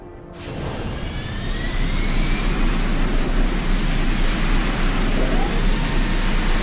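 Aircraft engine noise from the video game Deus Ex: Human Revolution swells in after a moment and holds as a loud, steady broadband roar and rush for several seconds, with no talking.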